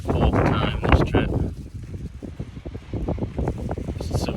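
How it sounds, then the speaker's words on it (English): Strong wind gusting across a high desert campsite, roaring and buffeting the microphone throughout with rough, uneven bursts and no one speaking. "It's severely windy right now."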